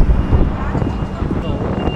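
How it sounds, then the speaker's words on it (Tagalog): Steady wind buffets the microphone with low rumbling gusts on Santorini, Greece, close and fairly loud, with no one speaking. "medyo mahangin dito"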